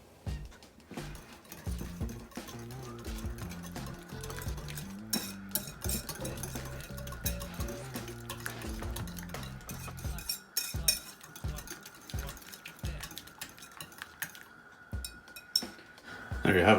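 Vegan Big Mac sauce is stirred in a bowl with a steady run of close clinks and scrapes of a utensil on the bowl, plus soft squishy mixing sounds over several seconds.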